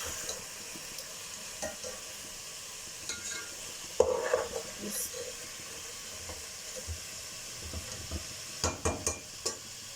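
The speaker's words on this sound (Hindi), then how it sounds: "3 से 4 मिनट हो गए हैं मुझे इसकी भुनाई करते हुए।" Chicken wings frying in a pot for biryani, with a soft constant sizzle and hiss broken by intermittent scraping stirs and clinks of a spoon, close by and fairly quiet.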